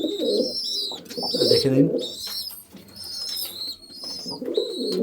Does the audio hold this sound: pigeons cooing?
yes